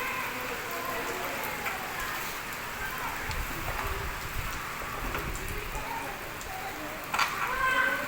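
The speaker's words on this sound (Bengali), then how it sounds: "নিচে টিনের চালা, বৃষ্টি পড়ছে, দেখতে অসাধারণ লাগছে।" Rain from a storm in Gazipur drums on a tin roof below a third-floor vantage point, a steady dense patter throughout with a louder surge near the end.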